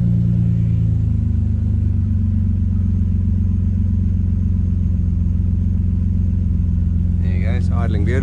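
A BMW M52 engine with individual throttle bodies idles with a steady, deep rumble close by, smooth and even throughout, with a voice starting to speak near the end.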